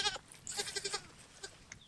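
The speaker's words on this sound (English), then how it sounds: "Goat wrestling." A goat bleats while being wrestled, giving a series of short, close, strained bleats in quick succession followed by a couple of fainter cries.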